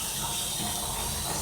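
Lukewarm water runs steadily from a tap while a dog is bathed, a close, constant broadband rush with no pauses across the short stretch.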